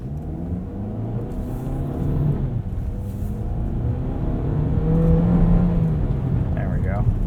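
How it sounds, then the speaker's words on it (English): A 2023 Cadillac XT4 Premium Luxury AWD pulls away from a standstill on snow, its engine a steady, close rumble that rises gradually over several seconds, with a voice speaking over it. "Accelerate again here from a dig."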